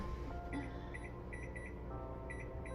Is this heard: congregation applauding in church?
no